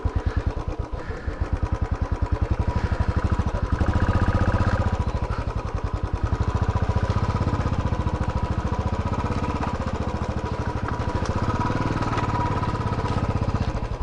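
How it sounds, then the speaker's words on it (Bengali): A motorbike eases across a cut-up dirt road in the Ayodhya hills of Purulia. Its engine rumbles steadily up close, with dense, even pulses throughout and no talking. "এটা দিয়ে এখন বাইক যাবে কিনা সেটা দিয়েই পরীক্ষা চলছে।"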